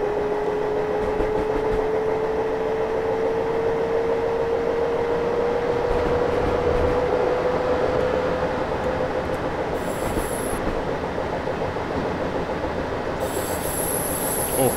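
A BR 423 electric commuter train heard from outside in Train Simulator rolls past with a steady rumble, a slowly rising whine, and brief high squeals from the wheels near the end.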